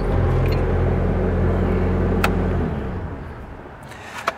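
A Bobcat skid steer loader's engine runs with a steady low drone that drops away after a few seconds, leaving quieter rumble and a couple of knocks.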